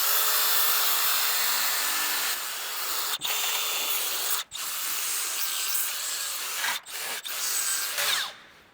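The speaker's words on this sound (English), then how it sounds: "I call it a finger grinder because it looks like a finger" A small blue finger-style power file grinder runs continuously at close range during a camper trailer build, its steady high whine broken by a few brief dips and cutting off at the end.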